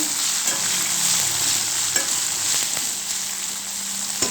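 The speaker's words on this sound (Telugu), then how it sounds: "ఇప్పుడు ఈ బెండకాయ ముక్కల్ని వేసుకోవాలండి వేసుకొని కలుపుకోవాలండి" Okra pieces sizzle steadily in hot oil while being stirred, a dense, close frying hiss with occasional light scrapes of a spoon against the pan, and no voices.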